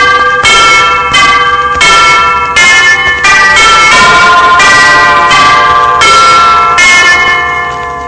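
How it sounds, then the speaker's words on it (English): Bow church bells peal loudly in a steady, overlapping sequence of repeated strikes, each ringing tone sustaining and decaying into the next, with no voices present. "Suddenly, he heard the Bow church bells ringing."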